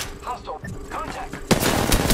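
Gunfire in the Apex Legends video game breaks out as a dense burst of rapid automatic shots partway through, after quieter tonal game sounds and a voice, continuing loud to the end.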